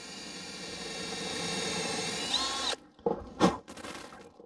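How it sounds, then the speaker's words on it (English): A power drill bores through a wooden board with a steady, close whine that rises in pitch, cuts out abruptly, then gives two short bursts. "I can simply drill it all the way through"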